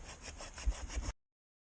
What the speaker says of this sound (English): I have a little handsaw, but it cuts good.